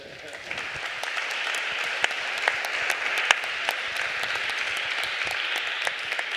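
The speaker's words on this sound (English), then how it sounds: "give really an applause to the whole panel a bit longer" An audience applauds a panel with dense, steady clapping, moderately loud and sustained throughout.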